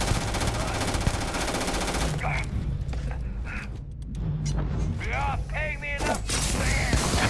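A suppressed Rattler gun fitted with a reflex sight fires in Starfield, rapid bursts of gunfire with brief pauses and other game effects mixed in, loud throughout.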